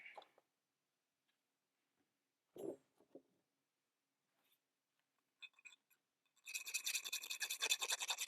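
A metal file rasps along the cut edges of a 6-inch piece of all-thread rod, a few isolated scrapes and ticks giving way to a fast, steady run of close, bright strokes.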